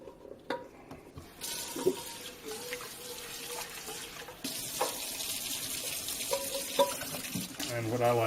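A kitchen sink tap runs steadily, water splashing into the basin close by with clinks of pots and brief talk over it while pasta is handled.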